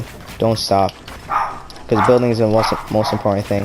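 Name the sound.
dog barking in the background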